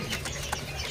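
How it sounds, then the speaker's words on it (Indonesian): A canary sings at a bird kiosk, with short, faint chirps in a brief burst over steady background noise. "Ini ada burung kenari ya."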